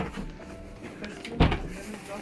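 Toilet door in a Roller Team Kronos 283 TL camper van, shown at the CMT Stuttgart 2023 show, closing with one short thud midway, under soft talk and show-hall murmur.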